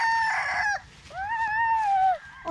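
White chickens at a farm in Negros: a rooster crows loudly and close twice, a long wavering call after a shorter one, with faint clucking underneath and no talk.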